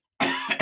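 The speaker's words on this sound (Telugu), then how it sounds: "దగ్గు పట్టేసింది. మా వాడికి అయితే దగ్గు అయితే పట్టేసింది." A man gives a single short, close cough with a quick second burst right after it, heard alone in a quiet room.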